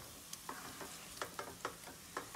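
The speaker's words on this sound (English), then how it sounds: "we're gonna take the refried beans, got it out of the can, and just put it on in there" Canned refried beans are stirred into sautéed peppers and onions in a hot pan, giving a soft sizzle with several quick scraping strokes of a utensil in an uneven rhythm, close but quiet.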